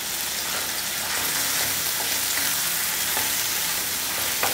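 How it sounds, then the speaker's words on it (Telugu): Masala with turmeric fries loudly in hot oil for a sea fish curry, a dense continuous crackling sizzle close up, with occasional soft stirring knocks and no voices. "ఈ మసాలా 1-5 నిమిషాలన్నా వేపుకోవాలి."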